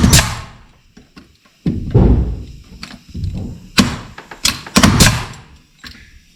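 A pneumatic nail gun fires nails into hurricane tie straps on a house frame, giving several loud, sharp thuds at irregular intervals with quiet gaps between.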